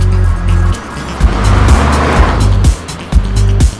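A car engine hums and revs in bursts on a coastal mountain road with a six-speed manual gearbox, close and fairly loud, with a few throttle surges and gear changes.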